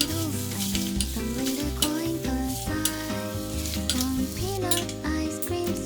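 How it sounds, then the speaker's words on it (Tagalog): Cajun shrimp and chicken pasta stirred in a hot pan, with steady sizzling and the scrape of a utensil, under continuous background music. "Haluin ng mabuti."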